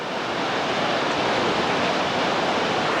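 Whitewater rapids on the New River in West Virginia roar as a steady, dense rush of churning water, loud and unbroken, with no voices.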